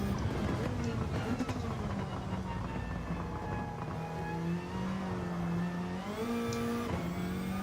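A car engine drones steadily in the Gran Turismo 7 racing game, holding a rising and falling pitch through gear changes and revs, with a continuous road rumble underneath.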